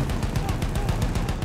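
Rapid automatic gunfire crackles in a First World War battle in Battlefield 1, a dense, loud stream of sharp shots with no break.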